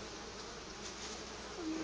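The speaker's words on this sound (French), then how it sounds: "Et voici les abeilles." Honeybees swarm-buzzing in an opened beehive during beekeeping work, a dense steady drone filling the whole stretch at close range, with no one talking.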